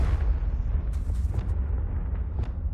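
A Confringo spell explodes in Hogwarts Legacy, giving a loud, rumbling boom with crackling bursts layered over continuous low game noise, no talk.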